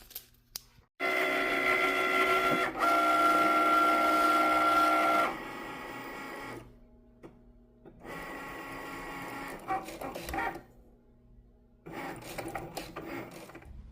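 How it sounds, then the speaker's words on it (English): Cricut cutting machine slicing holographic gold vinyl, a close mechanical whirring and rasping of the carriage in several bursts, loud for a few seconds, then quieter passes separated by brief silences. "So I'm going to use this holographic gold vinyl and cut that out with my Cricut."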